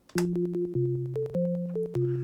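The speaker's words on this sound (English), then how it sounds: "We get that rounder tone from the sine wave." Smooth, round sine-wave tones from an AY-3-8910 sound chip tracker step through a short melody of sustained notes, each change marked by a soft click, with no voices.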